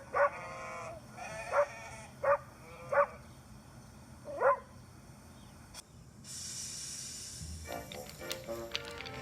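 Toy-like sheep bleat in a wooden railway story scene, five short separate calls spaced across the first few seconds, followed by quieter rustling and clattering sounds.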